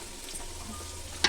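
Onions frying in a pan for a mushroom and peas pulao, a steady soft sizzle with faint stirring, close and alone, ending in a brief sharper crackle.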